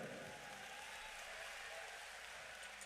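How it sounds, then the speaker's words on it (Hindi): Audience applause at a religious gathering at Bageshwar Dham, a steady, dense wash of clapping held at an even level throughout, sounding somewhat distant. "तो इन पिता के लिए एक जोरदार ताली बजाइए।"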